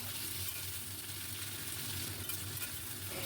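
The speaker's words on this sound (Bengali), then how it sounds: "তারপর কেটে রাখা আলু দিয়ে দিলাম। বেশ সময় ধরে আমি এটাকে ভেজে নেব।" Diced potatoes fry in hot mustard oil with whole cumin seeds, giving a steady, even sizzle that runs without a break. No one speaks over it.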